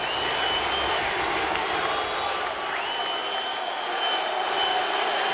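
Basketball arena crowd at a Cavaliers vs Magic NBA game roaring steadily at the buzzer, a dense continuous wash of cheering and applause that holds loud throughout with no gaps.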